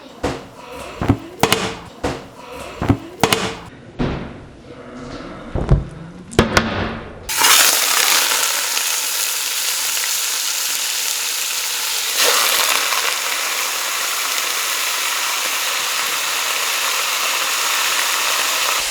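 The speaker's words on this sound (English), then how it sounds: "Some of that grease went and hit the burner, but yeah, that pan was pretty hot." Grease from a very hot frying pan spatters onto the burner and flares up, preceded by several sharp clinks and knocks, then a loud, steady frying roar that fills the rest, close by.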